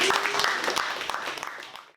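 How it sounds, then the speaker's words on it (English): A crowd of students and class members applauds, dense clapping that starts loud and gradually fades out over about two seconds. "And a big round of applause for all the students for enjoying this course."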